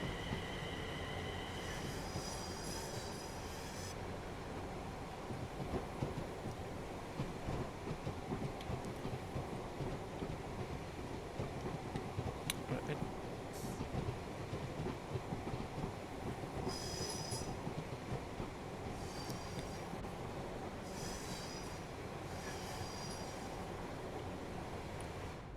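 Trains pass on the Newton to Glasgow Central line in Train Sim World 4, a Class 380 rumbling with continuous rolling wheel noise, intermittent high wheel squeals and clicking joints, steady and fairly loud throughout.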